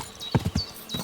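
Horse hooves clip-clop along a road in the medieval video game Kingdom Come: Deliverance II, a short run of about five close, moderately loud hoof thuds in an uneven walking rhythm, with no talking.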